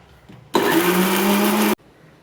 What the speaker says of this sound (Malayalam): ഇതെല്ലാം കൂടെ ഒന്നും കൂടെ മിക്സിയിലിട്ട് നല്ലോണം അരച്ചെടുക്കാം